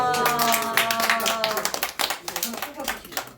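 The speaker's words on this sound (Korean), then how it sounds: "예, 박수하겠습니다." Audience clapping at a church gathering during a numbered prize draw, a patchy burst of hand claps running through the whole stretch alongside musical tones, with voices murmuring underneath.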